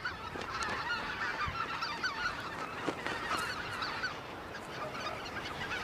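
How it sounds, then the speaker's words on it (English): A flock of white-fronted geese gathered at a wintering ground in the Korean DMZ, honking steadily and overlapping from many birds at a moderate distance, with no voices. "White-fronted geese congregate here for the coming winter."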